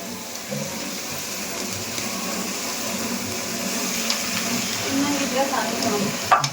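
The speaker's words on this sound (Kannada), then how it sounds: "ಎಲೆಕೋಸು ಮತ್ತೆ ಈರುಳ್ಳಿನ ಫ್ರೈ ಮಾಡ್ತಾ ಇದ್ದಾರೆ ಎಣ್ಣೆಗೆ ಹಾಕಿ." Cabbage and onion frying in oil for egg rice, a steady broad sizzle with occasional soft stirring clicks, fairly close, growing slightly busier toward the end.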